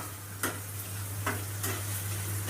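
Maggi noodles with egg stirred in a frying pan: a soft steady sizzle with three brief scraping strokes of the utensil, close and fairly quiet, over a constant low hum.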